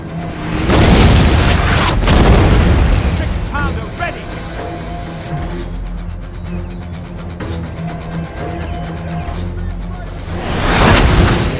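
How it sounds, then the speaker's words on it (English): Repeated heavy booms of cannon and artillery fire roll through a video game battle, with loud blasts at the start and end over a steady battlefield din. "the cannon unit arrives on the left and instantly comes under fire by Danish artillery"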